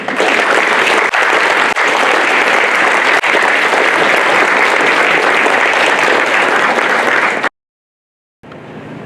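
Sustained audience applause closes a League candidate forum for the California State Assembly race, steady dense clapping filling the room for about seven seconds before cutting off abruptly, followed by a brief silence and then a softer resumption.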